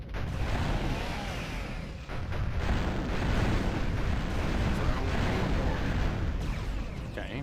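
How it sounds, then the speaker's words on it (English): A grenade launcher fires in the video game Fire Warrior, with heavy, rumbling explosions rolling together into a loud, continuous barrage over several seconds. "we'll use the grenade launcher first, because I think that might kill them"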